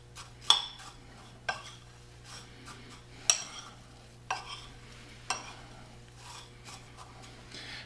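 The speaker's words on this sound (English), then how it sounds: "Give it a good mix." A spoon stirs shredded cheese into a chicken noodle casserole, with a few evenly spaced knocks against the dish and a soft scraping swish between them over a low hum.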